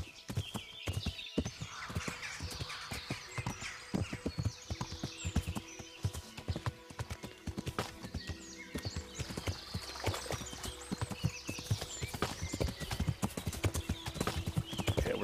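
Horse hooves clip-clop in the medieval game Kingdom Come: Deliverance, a busy run of close, uneven hoof strikes that carries on without a break, with faint snorts or whinnies mixed in.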